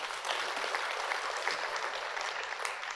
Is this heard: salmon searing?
no